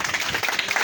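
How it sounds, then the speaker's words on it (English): A short burst of dense, close audience applause, many hands clapping together at an even level with no break. "Clap for yourself."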